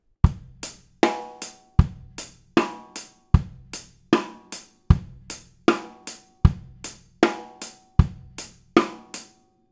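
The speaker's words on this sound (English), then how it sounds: "We're going to put the accents on the ands of the beat." A basic drum groove with kick and backbeat snare while the hi-hat accents fall on the off-beat ands, about fourteen steady hits ringing alone, close and clear.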